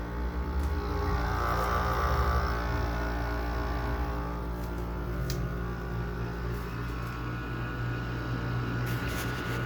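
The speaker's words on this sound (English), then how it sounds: "Let's listen to that nice LG compressor. A lot of that vibration sound comes from the casing." An LG air conditioner compressor runs in an old Goldstar unit, giving a steady low hum with a vibrating casing rattle, close and continuous.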